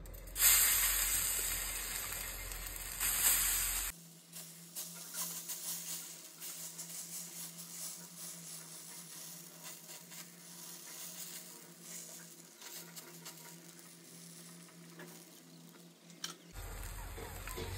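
Batter is poured onto a hot pan and sizzles, a steady hiss that holds through the middle with sharper spatter at the start and end, recorded close up without talk.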